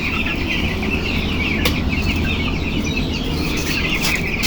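Thirteen-day-old broiler chicks on a farm, a continuous close chorus of many peeping, clucking birds over a steady background hum, with no talking.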